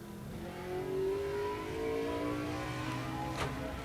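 A late model race car, a 99 Monte Carlo, runs a qualifying lap at Grundy County Speedway, its mid-pitched engine holding a steady drone that swells slightly as it passes, with no voices over it.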